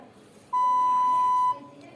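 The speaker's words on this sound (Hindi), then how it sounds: "थोड़ी थोड़ी देर में ये बीप साउंड आता है" A Samsung mobile phone gives a single steady electronic beep of about one second, a clear pure tone against quiet background hiss with no talking.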